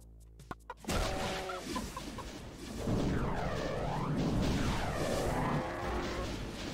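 A chicken clucks repeatedly in the Heretic Doom mod after the player transforms, loud and close, over a dense game backdrop with a few sharp hits at the start.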